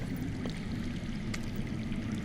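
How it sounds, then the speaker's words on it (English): Faint, steady rush of water flowing underground, a continuous muffled trickle with no other sounds over it. "I hear water. From underground."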